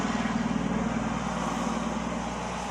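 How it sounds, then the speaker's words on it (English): A noisy truck rumbles past with a broad, steady engine roar that eases slightly toward the end, fairly loud and with no talk over it. "Noisy truck."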